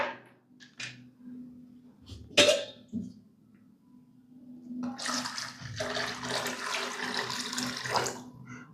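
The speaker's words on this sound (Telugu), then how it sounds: "ఇక్కడ వరకు వాటర్ పోసుకోవాలి ఇప్పుడు" Water splashes and rushes steadily into a pot after a few soft clinks and a knock, pouring continuously for several seconds.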